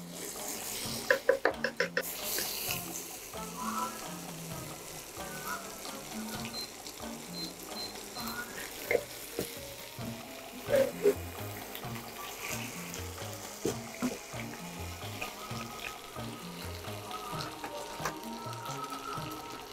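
Chicken wings frying in a pan over a low flame, a soft steady sizzle with occasional clinks from stirring, while a voice talks over it.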